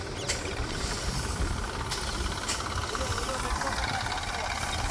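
A tractor engine runs in a field where mung beans are being harvested, a steady low rumble with hiss throughout, fairly faint and continuous.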